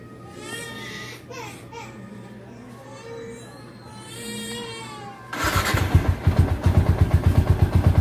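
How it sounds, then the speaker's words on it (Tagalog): A motorcycle engine catches abruptly after several seconds of quieter background voices and a crying child, then runs in a loud, fast, throbbing chug up close. "Guys, manda na yung motor natin."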